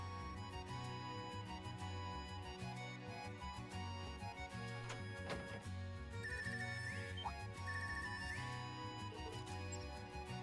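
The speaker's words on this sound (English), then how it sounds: "it sounds different from the normal ringtone" An in-game phone ringtone from Trails of Cold Steel 3 chimes in repeated melodic bursts over layered background music, sounding bright and electronic and staying steady throughout with no talking.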